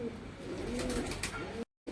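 A Kaldumma pigeon coos nearby in soft, low, rolling notes that come and go over quiet background noise before cutting out.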